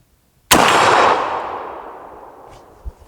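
A single loud rifle shot from a Marlin-Glenfield Model 30 cracks sharply and rolls away in a long outdoor echo, followed by a faint distant clang as the steel target rings.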